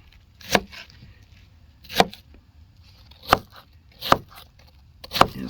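A knife chops through food for a one-skillet camp meal with onions, green peppers and beef, five sharp distinct cuts at roughly even intervals against a quiet outdoor background.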